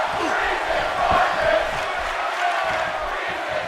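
Video-game arena crowd in WWE 2K17 at a Milwaukee SmackDown show, chanting in support of wrestler Tyler Breeze during his match with Randy Orton; a steady, loud, dense roar of voices with rhythmic swells throughout.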